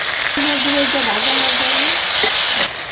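Garlic-ginger paste and tomato hit lightly browned onions in a hot pan, setting off a sudden loud, continuous sizzling hiss with a wavering whine through it, close up and steady for about two seconds.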